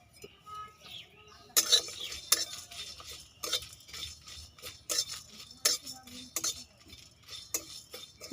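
Whole cumin, whole garam masala and dried chillies dry-roasting together in a pan, with irregular metallic clinks and scrapes of a spoon stirring against the pan over a quiet background.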